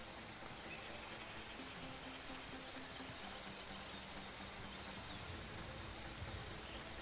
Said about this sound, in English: the rain makes it seem like I've got no eyes